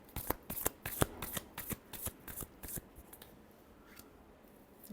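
Tarot cards riffle and shuffle briskly up close in a quick run of crisp flutters that tapers off into quiet.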